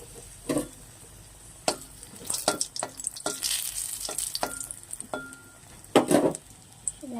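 Dried red chillies frying in oil in a wok, a continuous sizzle broken by repeated sharp scrapes and knocks of a spatula against the metal.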